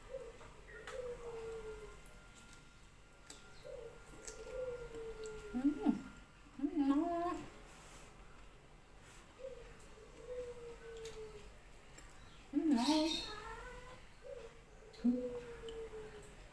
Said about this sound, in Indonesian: Kucing gue meong-meong.